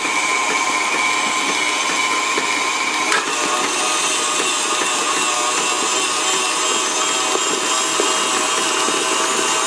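Electric mixer beating buttercream icing made with margarine, running at increased speed: a steady, loud whirring motor drone with a gritty, churning texture that holds evenly throughout, with no talking.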